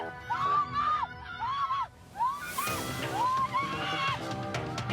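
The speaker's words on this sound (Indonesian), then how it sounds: "Penumpang mobil pun berteriak histeris." Car passengers scream hysterically during a violent street clash, with repeated high wailing cries in short bursts, loud and close over crowd noise.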